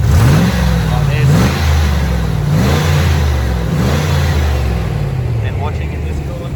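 A Range Rover P38 engine runs close up while being bled of coolant, its revs rising and falling in repeated blips over a steady idle. Someone talks over it.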